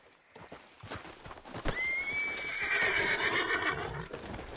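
A horse in Red Dead Redemption 2 gives a loud, drawn-out whinny that rises and then trails off, with hoofbeats clopping steadily underneath and a game soundtrack in the background.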